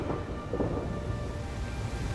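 Black rain and thunder in the video game Lost Ark. A rumbling storm rolls under steady rainfall and stays moderately loud throughout, with no speech.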